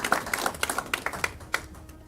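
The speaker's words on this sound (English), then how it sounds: "let's give her a round of applause to welcome her" Scattered claps from a small audience welcoming a new Democratic Alliance mayor at an inaugural mayoral gathering, sparse and uneven with individual hand strikes standing out, fairly faint in a room.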